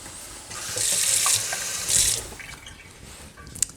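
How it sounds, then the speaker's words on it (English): Tap water runs from a faucet into a sink with a close hiss and splash that swells, then eases off, ending with a small clink. "tap water."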